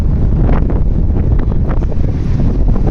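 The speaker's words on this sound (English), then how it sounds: "today it's quite windy" Strong outdoor wind buffets the microphone on a Moscow street, a steady loud rumbling roar with gusty surges throughout and no voices.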